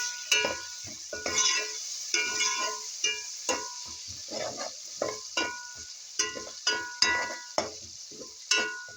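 Garlic and onions sautéing in a pan for a Filipino chicken asado Ilokano: steady sizzle with repeated scraping stirs and utensil clinks at a regular pace, close and clear, no talk.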